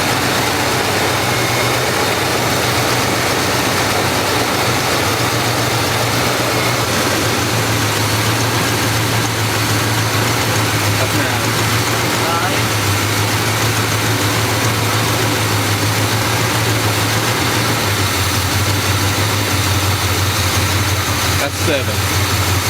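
A restored 1972 Chevrolet C10 truck idles while its carburetor is tuned, a steady low, throbbing engine drone with a slight shift in pitch partway through, with people talking over it.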